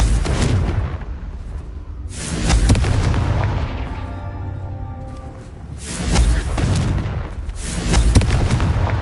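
Repeated Confringo spell explosions from the Hogwarts Legacy video game go off in quick succession, three heavy booming blasts with rumbling tails between them.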